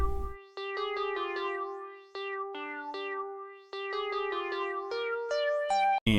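A synthesized lead melody with effects plays alone in a beat: clean, bright staccato notes in a quick stepping pattern, each with a short echo tail, moderately loud throughout.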